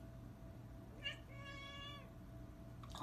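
Two soft cat meows, a short one then a longer drawn-out one, heard close over a low steady background hum.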